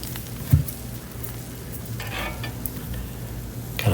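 Brussels sprouts cooking on a Blackstone griddle over high heat make a soft, steady sizzle, with a close clatter of stirring near the start and again at the end.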